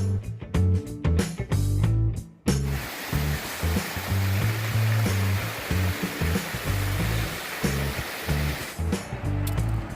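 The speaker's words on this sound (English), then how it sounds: "crossing the Pigeon River" The Pigeon River in the Smokies along the Appalachian Trail, a steady rushing flow of water heard from the bridge, loud and continuous under intermittent low rumbling noise.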